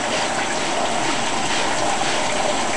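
A handheld water sprayer showers a Congo African grey parrot, producing a steady, close, unbroken hiss of spray throughout with no voices.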